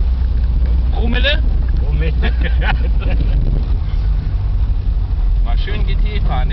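An old Opel GT drives along on Mallorca, its engine rumbling low with wind buffeting the microphone while people talk over the noise inside the car.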